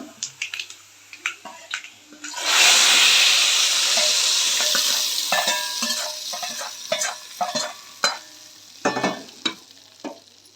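Freshly washed curry leaves hit hot oil for tempering with a sudden loud burst of sizzling and spluttering, which settles into steady frying crackle punctuated by sharp pops and stirring clinks.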